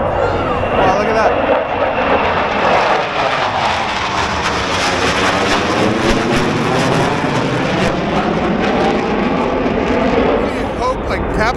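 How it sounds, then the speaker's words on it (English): Aircraft fly past overhead at a Fleet Week military show in San Pedro, California, a loud continuous jet roar that sweeps and shifts in pitch throughout, filling the scene with steady engine noise. "There was like no announcement. Airplanes are going to pass by."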